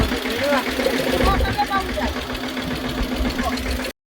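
A tractor engine idles with a steady, low mechanical drone and faint knocking, close by and fairly loud in a farm setting where sowing is under way, with voices talking over it.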